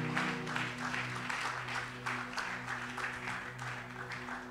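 Congregation in a church applauding the Lord, with steady rhythmic clapping over sustained music and a few faint voices.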